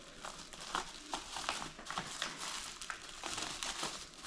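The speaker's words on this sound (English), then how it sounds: "now's the time to cut off some of this plastic" Thick plastic wrapping crinkles and rustles close up in repeated bursts as it is cut off handlebars, with brief sharp crackles scattered through a steady layer of handling noise.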